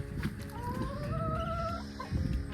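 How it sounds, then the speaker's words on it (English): Chickens cluck repeatedly around a farm coop and run where the flock roams free, with a drawn-out call rising over a steady low barnyard bustle. "more than half of the chickens are out roaming, so they roam like all through here"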